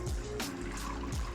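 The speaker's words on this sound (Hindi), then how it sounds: "और अब उसी पैन के अंदर मैं तकरीबन 3 पाव के जितना पानी डाल दूँगी" Water, about three quarters of a litre, is poured into a cooking pan for a mint lemonade syrup, giving a brief, steady splashing trickle heard alone at close range.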